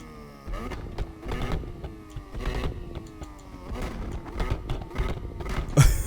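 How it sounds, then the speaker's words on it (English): A video game Mazda RX-7's engine revs repeatedly to redline, climbing quickly in pitch in rising sweeps before dropping back, loud and mechanical with no talking. "It revs very quickly from idle to redline."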